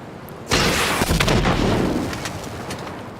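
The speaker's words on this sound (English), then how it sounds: "I'm gonna shoot right behind them again" Gunfire in the GTA V video game: a sudden loud blast after a quiet moment, with a heavy booming burst of shots that rolls into a fading rumble.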